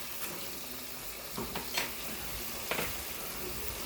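Sofrito hits a hot pan for Spanish rice and sizzles in a steady low frying hiss, broken by a few sharp scrapes and spoon clinks as it is stirred.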